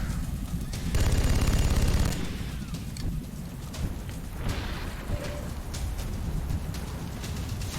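Automatic weapon fire from the XCOM: Enemy Within strategy game, a loud rattling burst of rapid shots about a second long, followed by a dense crackle of battle noise and impacts.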